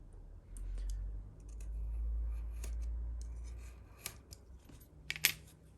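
A craft knife slicing through a sheet of balsa wood along a ruler after a light score, giving soft scraping strokes followed by a few sharper clicks and snaps near the end, close and fairly quiet, with no talking.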